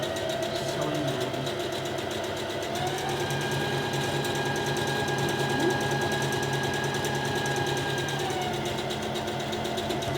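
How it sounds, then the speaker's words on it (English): A noisy sewing machine runs steadily as it stitches a curved seam on a fabric face covering, a continuous close mechanical whir and rattle holding for about ten seconds with a slight pitch shift partway through. "Quite a noisy sewing machine this, I'm afraid,"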